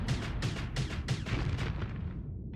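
Rapid bursts of ion pulsar and Vulcan cannon fire in the Starsector space combat game, a dense run of sharp repeated shots about every third of a second, loud and continuous before fading at the end.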